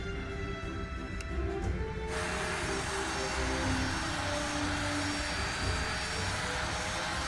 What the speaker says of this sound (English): And we got a good engine start.